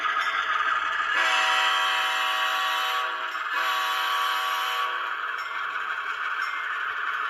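A Bachmann HO Plymouth switcher model locomotive with an ESU DCC sound decoder gives a steady, hissing, rumbling engine tone and a sustained whistle or horn that swells and drops, close and continuous with no speech.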